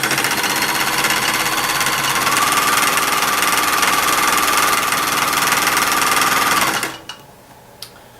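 A nearly 30-year-old sewing machine runs fast and continuous while stitching a mermaid tail blanket, a loud dense mechanical rattle that stops abruptly, followed by a couple of small clicks in near silence.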